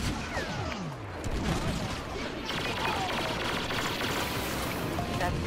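Gunfire in a video game as players shoot at walkers, a steady dense crackle of shots under continuous background noise and voices.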